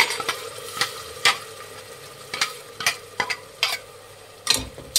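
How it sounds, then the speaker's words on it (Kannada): Ground masala paste fries in oil with a gentle sizzle, broken by sharp scrapes of a spoon against the pan every second or so, close up and without voices. "ಎಣ್ಣೆಯಲ್ಲಿ ಫ್ರೈ ಮಾಡಬೇಕಾಗುತ್ತೆ ಮಸಾಲೆನ."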